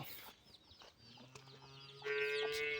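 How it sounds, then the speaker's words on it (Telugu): Young chicks on a village farm peep in a steady chorus of high, thin chirps, growing louder and denser toward the end, with farmyard fowl clucking faintly behind them. "కోడి పిల్లలు అరస్తూనే ఉంటాయి"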